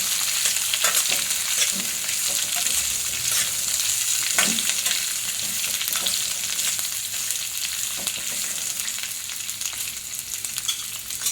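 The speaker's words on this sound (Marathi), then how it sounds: "हे कापलेले मी हे आव टाकून देते चांगलं फ्राय करून घ्यायचं तेलात" Chopped amla (Indian gooseberry) fries in oil for a chutney, with a loud, constant crackling sizzle and occasional stirring knocks throughout. No talk is heard.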